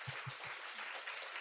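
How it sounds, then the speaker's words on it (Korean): Congregation at a Covenant young adults' church worship service applauding to welcome newcomers, a steady wash of many hands clapping at once for a short burst, with a few low thumps at the start. "박수로 환영하도록 하겠습니다"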